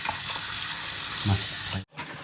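Tap water running steadily while raw shrimp are washed, a broad hiss with a few splashes and brief low voice sounds, cutting off abruptly near the end before resuming faintly.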